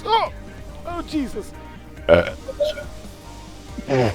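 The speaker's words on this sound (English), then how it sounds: "I hiccuped and then belched." A hiccup followed by a belch, close and loud, with a man exclaiming in surprise around them; voiced bursts and croaky throat sounds alternate across a few seconds.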